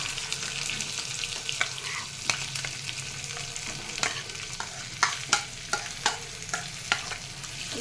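Cashews and onion fry in hot oil with a steady sizzle, while a series of sharp spoon scrapes and clinks against the pan grows more frequent toward the end.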